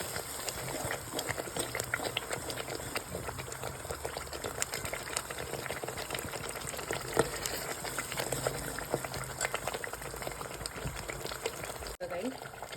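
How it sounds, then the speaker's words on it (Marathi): Masala sizzling and frying in oil in a pan for a Sunday mutton curry, a steady close crackle and bubble running throughout with no one speaking over it. "आता आपण हा मसाला चांगला भाजून घेत आहोत, तेल सुटेपर्यंत"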